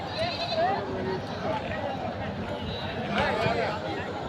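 Sheep bleat at a busy livestock market in Haveri, a few calls rising over a steady hubbub of crowd noise and overlapping talk.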